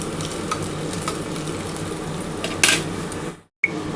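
Soybean and potato cutlets fry one at a time in hot oil, giving a steady close crackling sizzle with a few light clinks of utensils and a brief sharp spike before a short dropout.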